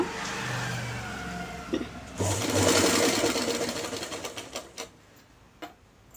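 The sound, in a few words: sewing machine stitching trouser crotch seam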